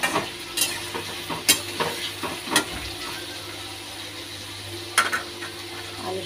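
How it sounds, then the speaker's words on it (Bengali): Potatoes frying in a pan are stirred, with a steady low sizzle broken by a few sharp scraping knocks of the spoon against the pan, close and fairly quiet. "এখানে আলুটা এখন নেড়ে নিই।"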